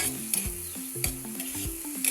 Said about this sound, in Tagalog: Hahaluin lang po natin.